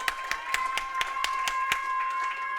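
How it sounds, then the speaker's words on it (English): Audience applause, a few distinct claps spaced regularly over a steady tonal hum, moderately loud and fairly close. "Give them a round of applause"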